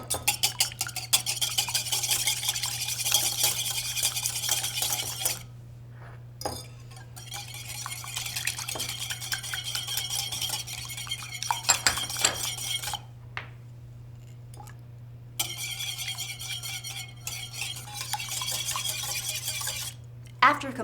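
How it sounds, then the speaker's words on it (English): Milk, vanilla and lightly beaten eggs are whisked together in a bowl for a devil's food cake, in rapid scraping, clinking bursts of stirring separated by short pauses, with a steady low hum beneath. "in a separate bowl, combine the remaining milk, the vanilla, and the lightly beaten eggs"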